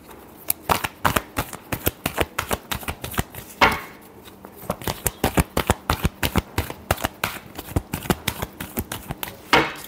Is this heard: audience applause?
no